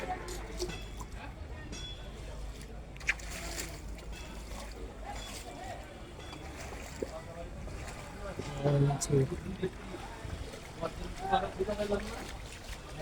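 A boat moves through knee-deep floodwater on a city street in Dhaka, with soft splashing and trickling, wind buffeting the microphone, and people talking over it throughout.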